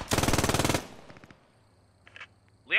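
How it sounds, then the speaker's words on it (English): An MG 42 machine gun in the WW2 video game Post Scriptum fires one short, loud, rapid burst, followed by fading echo and a few faint distant clicks and thuds. "Gotta love a good old MG"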